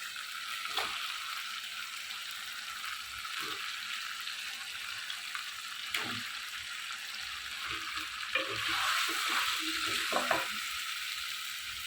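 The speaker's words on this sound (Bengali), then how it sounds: "এখানে দিয়ে দিচ্ছি পেঁয়াজ কাটা মশলাটা কিন্তু হয়ে গেছে আমি এখন মাংসটা দিয়ে দেবো" Beef going into fried onion and spice masala sizzles in a steady, close hiss, with occasional scrapes and knocks of stirring that build slightly toward the end.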